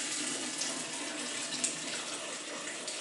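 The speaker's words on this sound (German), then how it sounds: "das kochende Wasser einfach über die Schlehen zu kippen" Boiling water pours steadily over sloes in a soft, even rush, close by and fairly quiet throughout.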